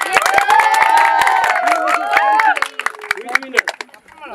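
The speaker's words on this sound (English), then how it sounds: "Let's applaud it together." A group of young people at a school camp clap and cheer together, with excited whoops and shouting voices over scattered sharp claps that thin out toward the end.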